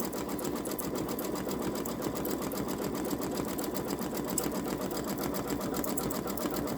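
A Babylock Solaris Vision Journey embroidery machine stitching an outline on a t-shirt, a steady, fast, even mechanical whir with rapid needle ticking that runs loud and unbroken throughout.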